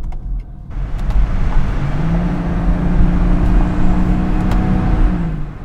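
Dinan-tuned 2016 BMW 340i xDrive with an inline-six making over 400 bhp, revving in the low to mid range; a loud, close engine note rises and falls steadily with no talking.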